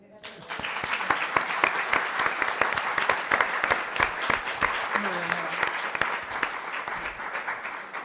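Sustained audience applause follows a speech at a talk on invisible care work, with dense, sharp claps starting abruptly and continuing steadily at full strength for several seconds.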